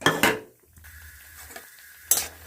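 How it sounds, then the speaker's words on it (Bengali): Bori lentil dumplings go into hot mustard oil in a kadai, with loud metallic scraping and clattering of a spoon against the pan at the start and end, and a quieter sizzle between them. "এবার তেলে আমি বড়িগুলো ভেজে নেব। বড়িটা দিয়ে দিলাম তেলে।"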